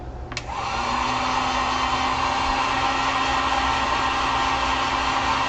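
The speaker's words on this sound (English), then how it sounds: "so let's grab the heat gun here." After a sharp click, a heat gun drying acrylic paint on a wooden sign starts up and settles into a steady, close, even blowing whir that continues alone.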